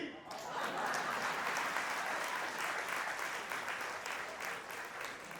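An audience at a community reunion gathering bursts into sustained applause, dense and even throughout, with murmuring voices mixed into the clapping crowd.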